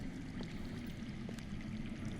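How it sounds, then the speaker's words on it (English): Underground water in a Game of Thrones Telltale game flows faintly and steadily, a soft continuous rushing murmur with no breaks, heard alone. "I hear water. From underground."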